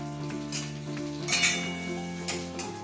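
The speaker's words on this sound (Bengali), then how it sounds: "এবার সুজিটাকে আমি ভালো করে ভেজে নেব।" Semolina fries in a pan with bay leaf and cardamom, a gentle sizzle with spoon clinks and scraping against the pan, close and moderately quiet.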